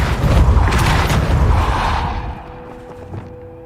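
A Depulso spell cast in Hogwarts Legacy: a broad, booming whoosh with a rushing burst that fades over a few seconds into a faint tonal hum.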